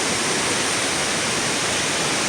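Class 5/6 river rapids rushing in a loud, continuous roar of water, steady and close with no other sound cutting through.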